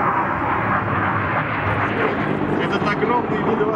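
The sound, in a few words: Russian military aircraft flying at MAKS air show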